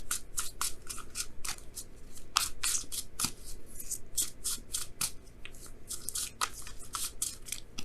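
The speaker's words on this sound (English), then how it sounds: "Let me go ahead and pull an extra card for the Tower." Tarot cards being shuffled and pulled from the deck, a run of quick dry papery riffles and slaps that stay close and fairly quiet, with no talking.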